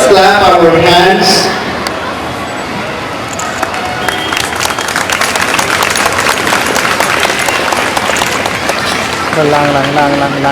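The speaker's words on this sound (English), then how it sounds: "Let us clap our hands" Audience applause at a convent school annual function, steady broadband clapping sustained for several seconds, with some music or voices at the start and end.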